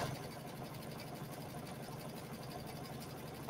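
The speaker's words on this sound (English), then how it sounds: "I'm just sewing without a pedal here." A sewing machine stitching a zipper pouch, run without a foot pedal, hums and whirs in a steady fast rhythm throughout, fairly quiet and alone.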